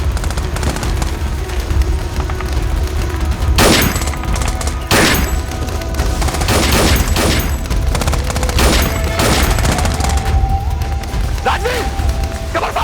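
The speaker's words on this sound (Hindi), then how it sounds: "तुम बस मुझे कवर फायर देना, और याद रहे मेरी जान तुम्हारे हाथों में।" Gunfire laying down cover in a Hindi TV drama battle scene, repeated loud shots and bursts scattered across the whole stretch over a dense noisy backdrop, with occasional shouted voices.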